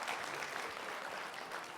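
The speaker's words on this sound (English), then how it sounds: "Round of applause." Audience applause at a diversity, equity and inclusion event, a brief, even patter of many hands heard faintly and at some distance.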